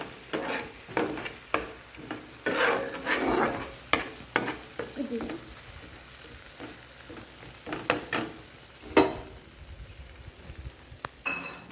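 A dal bora mixture of chickpea lentil paste with kochu leaves stirred in a pan over a low gas flame, soft frying sizzle under repeated scraping and clinking spatula strokes.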